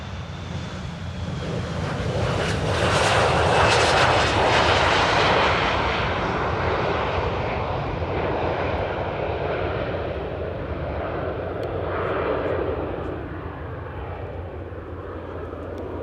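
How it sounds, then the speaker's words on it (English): A KLM Boeing 787 Dreamliner at Amsterdam Airport rumbles steadily with a broad jet-engine roar that swells early, then slowly fades while staying continuous and moderately loud, with no voices. "I can actually see a KLM Dreamliner crossing, about to cross the runway"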